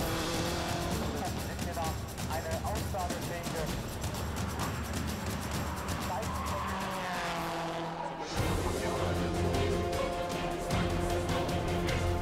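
A Peugeot 208 GTi race car at the 24H Nürburgring roars continuously, with engine noise and tyre sounds under a person talking throughout; the sound briefly drops out before resuming loudly.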